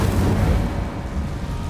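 An Incendio fire spell is cast in Hogwarts Legacy: a deep, booming burst of flame with a rumbling roar that fades out slowly over under two seconds.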